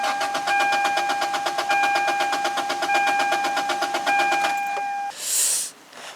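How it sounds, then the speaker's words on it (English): An engine with a newly installed header cranks over in rapid, regular pulses for several seconds without catching, with a steady high electronic beep tone underneath, then a short hiss. "just crank the engine over without it starting, just so I can get some oil lubrication through it"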